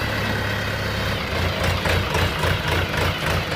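A Shifeng 404 tractor engine idles nearby, a steady low diesel rumble with a slight rhythmic pulse and vibration, loud and continuous with no voices.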